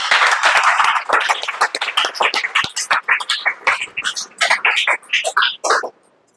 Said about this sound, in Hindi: श्रेया जी के लिए एक जोरदार ताली।